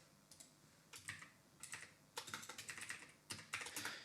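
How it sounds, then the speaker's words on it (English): Quiet typing on a computer keyboard while entering a basic SQL select statement, with short clustered bursts of key clicks separated by brief pauses, close and alone without talk. "we are just going to type in a very basic select statement"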